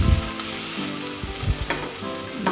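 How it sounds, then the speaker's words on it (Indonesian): Eggs fry in a pan as a side dish, giving a steady loud sizzle close by with occasional stirring scrapes and no talking. "Ini kita goreng lauknya dulu ya, telur."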